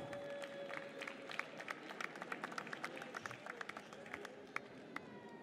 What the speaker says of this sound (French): je vous demande déjà d'applaudir et d'accueillir notre juge, Sébastien Petitjean